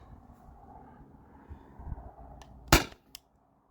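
A single sharp crack from an airsoft gun fired over a chronograph, brief and fairly loud, after a low rumbling background, followed by a fainter click.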